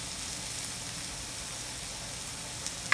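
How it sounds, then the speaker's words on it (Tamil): Red onion, green chilies, curry leaves and fennel sautéing together in a pan for a vegetable stir fry give off a steady, even sizzle and hiss, close and continuous with no talk. "கருவேப்பிலை, பெருஞ்சீரகம் எல்லாத்தையும் ஒன்றா போட்டு ஒரு 5 மினிட்ஸ் நல்லா வதங்க விடுங்க."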